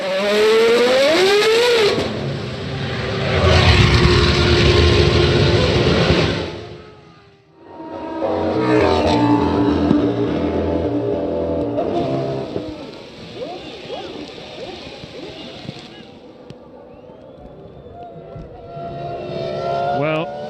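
Formula 1 cars racing at the 2001 Brazilian Grand Prix on a track turning wet, engines roaring and passing under a commentator's voice, surging loud then fading and returning.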